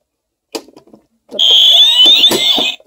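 An alarm device emits a loud, steady high-pitched electronic beep lasting over a second, preceded by brief handling clicks and thumps close by.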